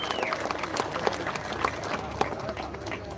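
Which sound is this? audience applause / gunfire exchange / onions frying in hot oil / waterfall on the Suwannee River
audience applause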